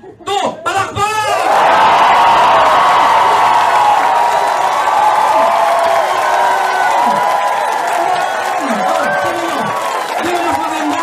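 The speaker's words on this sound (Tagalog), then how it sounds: "Sabay-sabay tayo ha? Lahat papalakpak ha? 1, 2, palakpak!" An audience at a seminar bursts into loud, sustained crowd noise right after a short spoken count, with clapping mixed into cheering, whoops and shouts, and voices carrying over the roar throughout.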